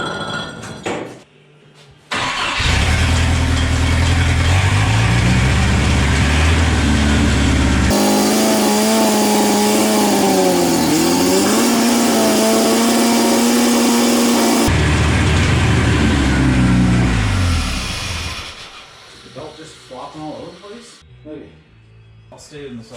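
A 3.0L turbo boat engine swapped into a Chevy S10 runs loud and close with its muffler on, a steady heavy drone with rising and falling revs in the middle, then dropping off as talk starts near the end.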